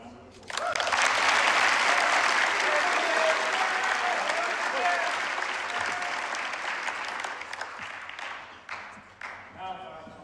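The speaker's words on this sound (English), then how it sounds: "Let's give this cadet a round of applause." An audience at an academic awards ceremony bursts into loud applause for a cadet, the dense clapping holding steady before gradually thinning out and tapering off into scattered claps near the end.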